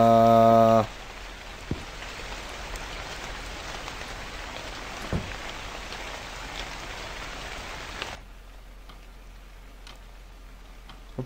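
Steady rain falls in a horror game set at a haunted convenience store, a dense continuous patter with a few soft thuds, cut off abruptly near the end to a quieter background; no one speaks.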